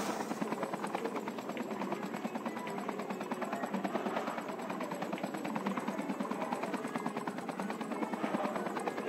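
Continuous rotor thump of a helicopter in a video game, a steady loud chopping drone throughout with no break, little else audible.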